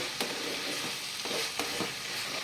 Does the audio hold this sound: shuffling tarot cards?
no